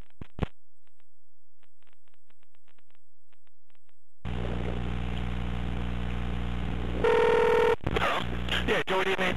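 A pay phone's dialing tones sound as short beeps and then a brief steady tone, over a noisy background that switches on partway through.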